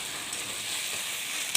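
Taro stolons tossed in a hot pan with turmeric, salt and sugar make a continuous close sizzle, with a light scrape of the spoon near the end.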